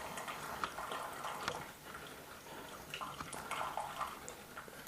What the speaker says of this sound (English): So you can see the hot water flowing down over the coffee grounds.